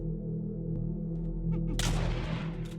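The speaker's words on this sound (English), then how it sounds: "But he could not outrun my shotgun, though." A shotgun blast in a Minecraft horror survival game, a single loud broadband burst near the end that rings out over a steady low ambient game drone.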